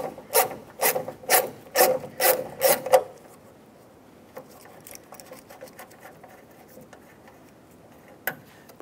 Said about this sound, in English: we can use a 10mm socket and unbolt the motor